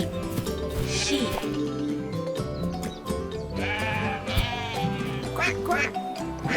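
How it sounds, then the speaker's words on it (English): Sheep bleat in wavering, quavering calls set against continuous cheerful music, a few separate bleats spread across the stretch at moderate loudness, with no talking. "Sheep, sheep."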